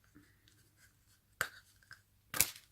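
A makeup eyeshadow palette being opened, with faint fumbling and a small click, then a sharp snap as the lid comes free.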